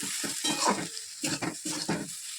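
Sesame, poppy seed and mustard paste frying in a pan: a close sizzle that rises and falls as a spoon stirs it in several short, wet strokes.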